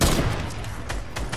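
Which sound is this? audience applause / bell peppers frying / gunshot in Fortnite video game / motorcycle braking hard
gunshot in Fortnite video game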